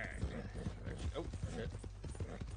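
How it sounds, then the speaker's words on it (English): A horse gallops in Red Dead Redemption 2, quick rhythmic hoofbeats pounding close by, while someone talks over the game sound. "God damn, the stamina on this horse sucks!"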